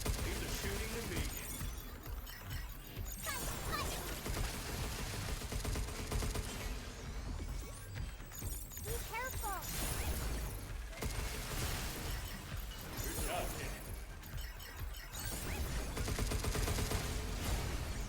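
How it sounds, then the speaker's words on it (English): Dense, sustained gunfire in the action game Pragmata, with rapid bursts, mechanical clatter and shattering impacts layered over a continuous game soundtrack, loud and busy throughout. "Leave the shooting to me."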